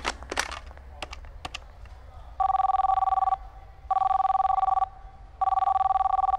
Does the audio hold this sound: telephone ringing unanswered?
yes